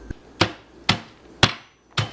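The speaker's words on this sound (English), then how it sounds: "I'm just using a meat tenderizer." A meat tenderizer hammer pounds chocolate Oreos in five sharp, evenly spaced thwacks, loud and close, with no talking.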